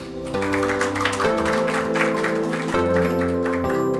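Audience applause welcomes a professor to the stage at the 2023 K-Water academic awards ceremony. Steady clapping sits beneath loud, sustained ceremonial music that dominates the sound.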